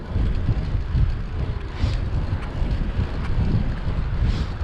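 Wind buffeting a microphone while riding a bicycle through central London on a chilly day, a continuous loud rumbling roar with gusty swells and no talking.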